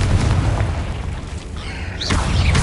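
A Confringo fire spell blasts in Hogwarts Legacy, a deep booming explosion that rolls for about two seconds, followed by a brief whooshing sweep near the end, all at loud, close range.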